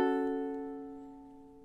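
A single ukulele chord with all four strings plucked together for measure 4 of a song rings out and slowly decays, alone and close.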